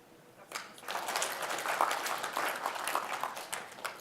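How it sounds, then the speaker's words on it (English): A group of people in a team-building session clap their hands together, a quiet start swelling into a sustained burst of scattered, overlapping claps that continues to the end. "I'd like you to clap."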